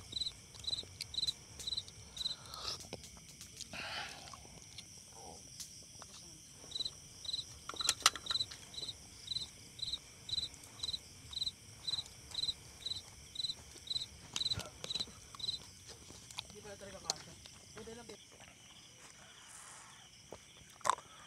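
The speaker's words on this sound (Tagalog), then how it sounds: "Yung crickets in the background." Steady, rhythmic cricket chirping at a campsite fills the scene, a high pulsing trill repeating in regular bursts over a quiet night-time ambience of insects.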